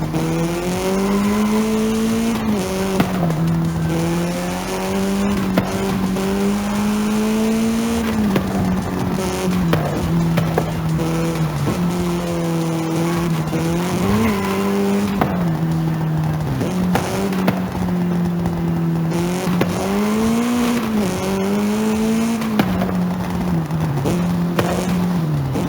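Racing car engines in Forza Horizon 5 drone steadily at high pitch, rising and falling with gear changes and revs, loud and close, with occasional tire noise and no talking.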